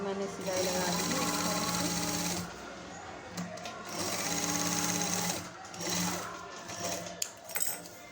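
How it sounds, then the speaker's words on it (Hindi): Sewing machine stitching the neckline of a blouse, running in long steady bursts with short pauses between them, close and prominent, while someone talks over it. "इस तरह से हमें सिलाई लगा देनी है ताकि हमारी अच्छे से गला तैयार हो जाए।"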